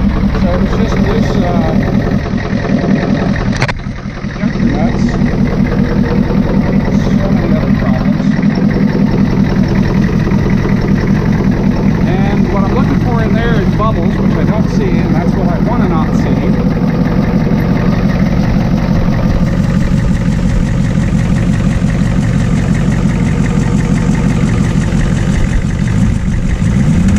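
A Ford F-350 with a 7.3 IDI diesel engine idles steadily right after its first startup, a loud continuous low rumble with steady vibration throughout, briefly dipping once early on.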